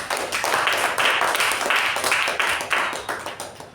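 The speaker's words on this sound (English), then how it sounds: "Let's give a round of applause." Applause at a meeting comes from a small group, a loud, close clapping with uneven surges and fades.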